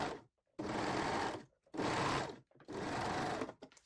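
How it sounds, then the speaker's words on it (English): A sewing machine stitches the side seams of a pair of Brazilian panties in three loud, steady bursts, each lasting about a second with short quiet pauses between, heard up close with no talking. "I will sew the side seams first."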